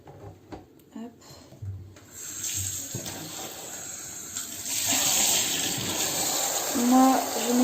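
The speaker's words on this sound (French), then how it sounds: "Moi, je mets souvent cette eau tiède. Là, ça se remplit un peu." Lukewarm tap water runs into a basin used for washing a cross-stitch embroidery canvas. A few clunks and knocks come first, then a steady rushing stream that grows fuller and louder as the basin fills.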